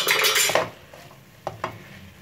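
Potato bharta with green onions being served, with a burst of spoon scraping against a dish followed by two light clinks of cutlery, close and clear, and no talking.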